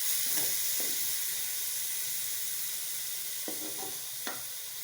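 Tomatoes and peas frying in a pan for pasta give a steady, close hiss of sizzling oil, with a few soft clinks and stirs breaking through.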